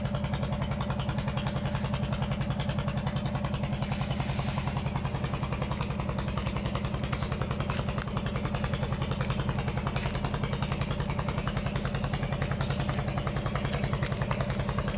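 Small boat engines on the Shitalakshya river chug steadily, a continuous rapid low throbbing drone with faint clatter, moderately loud and unbroken throughout.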